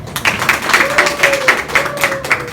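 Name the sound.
audience applause welcoming the lecturer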